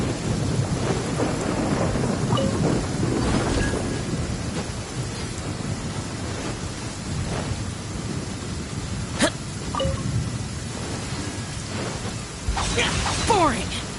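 Thunderstorm with lightning in the video game Genshin Impact: steady heavy rain with rumbling thunder and a few sharp lightning cracks, continuous and fairly loud throughout.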